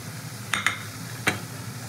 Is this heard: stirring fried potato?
yes